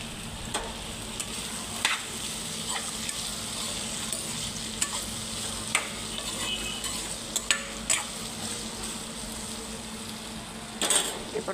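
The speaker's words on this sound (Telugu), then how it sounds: "హైలో పెట్టుకునే చేసుకోవాలి బెండకాయ ఫ్రై." Okra being stir-fried on high heat in a pan for an egg fry, a long, even hiss of oil dotted with scattered clicks and scrapes of the spatula.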